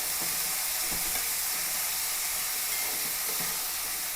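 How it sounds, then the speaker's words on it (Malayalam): Onion, shallot, green chilli, ginger and garlic sauté in a hot pan with a steady close sizzle, broken by a few soft stirring scrapes. "നമ്മുടെ സവാളയും ഉള്ളിയും പച്ചമുളകും ഇഞ്ചിയും വെളുത്തുള്ളിയും എല്ലാം ഒന്ന് വാടിയിട്ടുണ്ട്"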